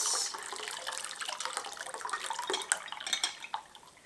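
Wild violet liquid strains through a jelly bag into a container in a kitchen, with a quiet, steady trickle and irregular small drips and splashes close by.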